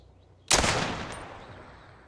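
A single sharp gunshot from a retro-style tactical shooter game, Dagger Directive, cracks suddenly and loud, then decays in a long echoing tail with no talk over it.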